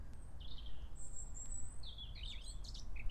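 A blackcap sings in warm sunshine: faint, scattered high warbling phrases and chirps over a steady low rumble of background noise, bird fairly distant.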